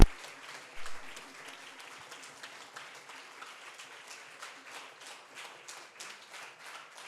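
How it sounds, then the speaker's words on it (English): Applause from an event audience for the Eleanor Marx Collective interpreters, a steady sustained clapping that starts abruptly and holds at even strength throughout, with no voices over it. "give big round of applause to the Eleanor Marx Collective"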